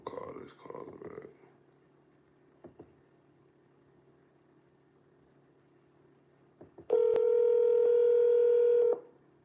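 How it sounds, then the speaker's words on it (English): Telephone keypad tones sound as a number is dialed to return a missed call, a few soft presses followed by a loud steady dual-tone beep lasting about two seconds, with brief talk at the start. "I'm gonna call this caller back."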